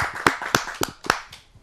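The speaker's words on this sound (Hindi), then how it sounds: "आप सबकी जोरदार तालियों से।" A few sharp, separate hand claps, about four strong ones followed by fainter ones, sound close by as an audience greets a poet at a Hindi kavi sammelan.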